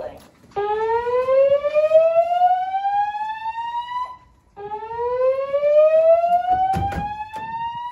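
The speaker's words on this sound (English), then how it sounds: "There has been a fire alarm reported in the building." A dormitory fire alarm siren sounds in two long rising sweeps with a brief gap between them, loud and clear, as a voice speaks briefly near the end.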